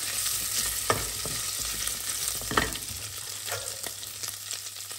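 Bacon and onion fry in a pan with a steady sizzle, punctuated by a few sharp clacks and scrapes of a utensil stirring.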